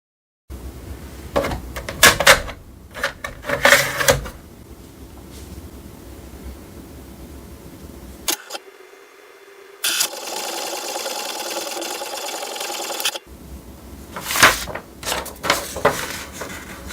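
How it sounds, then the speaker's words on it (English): An HP DeskJet 2800-series inkjet printer whirs and clatters through a page: bursts of mechanical rattling, a brief pause, then a long steady feed and more clicking. "Let's print a document."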